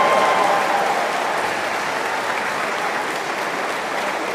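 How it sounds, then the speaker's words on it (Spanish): An audience at a church debate between pastors and a priest applauds, a steady dense clapping that starts loud and tapers slightly, with no voices on top. "Un aplauso para Paloma."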